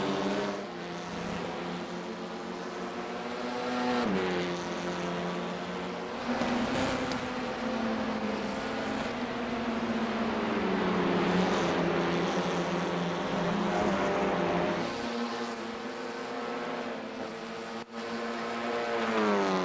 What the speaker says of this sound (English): As we watch the cars round the infield section here.